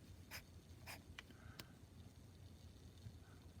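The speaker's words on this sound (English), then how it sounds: "I'm also writing now with the fat side of the nib" A calligraphy pen nib used on its broad side scratches across paper in a few short, faint strokes and ticks, close up in a quiet room.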